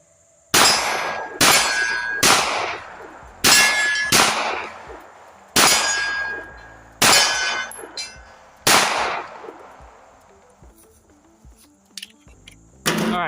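A .45 pistol's rounds striking steel targets outdoors: seven loud, ringing metallic clangs at a steady pace, each with a bright, decaying ring, followed by a few fainter pings.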